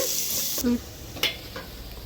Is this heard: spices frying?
yes